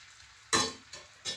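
Yucca blossoms cooking in a pan on a stove, three scraping stirs that each set off a short burst of sizzle over a quiet background, the first loudest.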